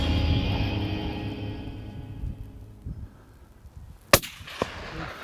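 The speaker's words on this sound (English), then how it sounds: "As soon as that front one takes a step, you take your shot." A hunting rifle fires at a stag outdoors, one sharp loud crack near the end that follows a fading rumble and quiet, with a lighter knock just after it.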